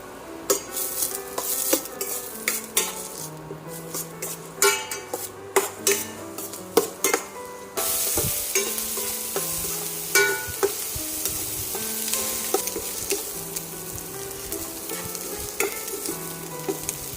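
Chopped onions frying in a pan for a keema cutlet, cooked toward golden, with a continuous sizzle broken by repeated sharp spoon scrapes and clinks against the pan, loud and close.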